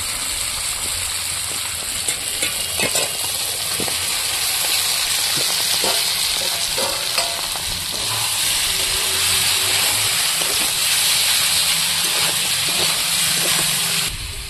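Vegetables, prawns and spices fry in a pan for a Bengali Malabar spinach dish, making a loud, continuous close hiss and sizzle with scattered crackles and scraping, unbroken for about fifteen seconds.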